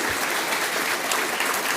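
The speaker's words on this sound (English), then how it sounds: "A round of applause for those answers from our panel." Steady, dense applause from a conference audience at a live summit, honoring a panel after its answers, filling the whole moment at even strength with no voices over it.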